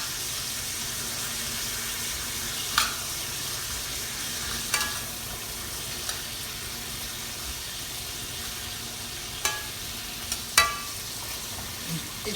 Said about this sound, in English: We're gonna glaze those carrots with that pumpkin butter and that cinnamon and that butter